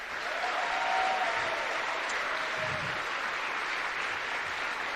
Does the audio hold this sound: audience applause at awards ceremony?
yes